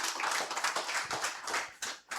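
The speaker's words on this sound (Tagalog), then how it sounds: "Pwede ba isang malakas naman palakpak para kay Lord dyan?" Crowd applause in a church or worship gathering, steady dense clapping from many hands throughout, fairly close and full, with no talking over it.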